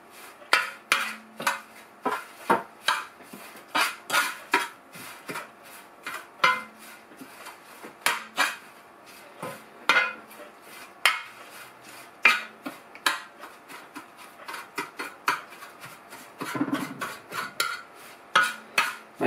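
Seaweed is tossed with seasoning in a bowl, producing a quick series of rhythmic scraping and clinking strokes, close and fairly loud, with brief pauses between bursts.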